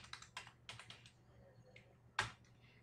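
Keyboard typing on a computer, a handful of quick clicky keystroke bursts spread through a quiet room, ending with one louder, sharper key press near the end.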